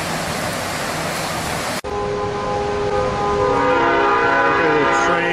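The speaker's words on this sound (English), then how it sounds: "the train is across the falls." Freight or passenger train crossing near Snoqualmie Falls, a broad rushing rumble that cuts to a sustained multi-tone horn chord blaring steadily over continuing rail noise, fairly close and loud.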